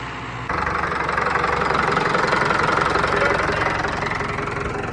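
A Swaraj 855 tractor engine runs steadily up close, a loud rumbling chug that kicks in after a brief moment and continues evenly without voices.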